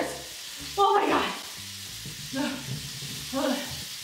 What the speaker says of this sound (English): The bangers have to get out of here. They sound like they're exploding in here.